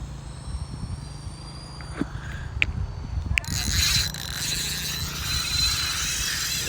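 A fishing reel pays out backing line under a kite flown high over the Dnieper, giving a steady mechanical whir and ratcheting clicks. A few sharp ticks come first, then a louder continuous buzz, with wind noise outdoors.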